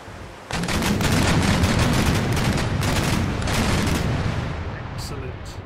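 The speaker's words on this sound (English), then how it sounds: "I'm just going to let the guns fire naturally." Ship guns fire in a naval battle in Empire: Total War, a sudden onset of dense, rumbling cannon fire that rolls on continuously as overlapping booms, loud and sustained to the end.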